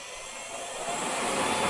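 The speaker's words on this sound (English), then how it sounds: "I am going to turn the motor on" The small motor of a vintage 8mm film projector spins up, a faint, rising whir that grows steadily louder over a moment, close and alone.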